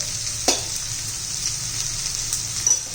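Biryani masala, homemade garam masala and turmeric frying in a pan for spiced rice, stirred together: a continuous close sizzle with a few sharp stirring clicks.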